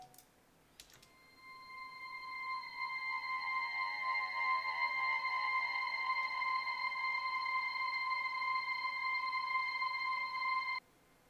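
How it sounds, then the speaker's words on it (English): A steady electronic synth tone rings out with shimmering, sweeping echoes from a D1630 Frequency Shifted Delay Max for Live device, holding for about ten seconds before cutting off abruptly. "I've just played a bit with the frequency shifter."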